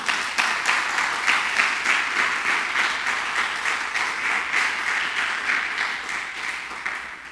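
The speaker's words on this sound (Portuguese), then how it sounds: "Você pode dar um aplauso ao Senhor aí?" A church congregation applauds together for about seven seconds, a dense, steady wash of many hands clapping close and loud, holding an even level before easing slightly toward the end, with no voices on top.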